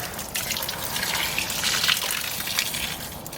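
Water being emptied out of a wetland filter box gushes and splashes in a steady outdoor pour, continuous and fairly close, with no talking.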